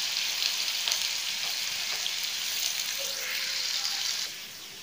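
Ground onion fries in a pan for biryani, a continuous close hissing sizzle with faint stirring scrapes, easing slightly near the end.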